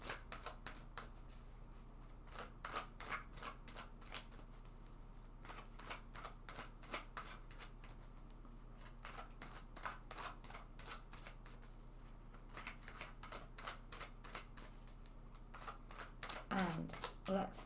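A tarot card deck being shuffled over and over, giving a steady run of close, crisp riffling card clicks with a few brief bursts of handling noise near the end.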